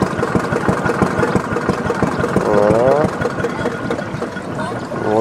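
A boat motor idles on the water in Southeast Asia, chugging loudly and steadily at close range with a slight rise in pitch midway, while people talk over it.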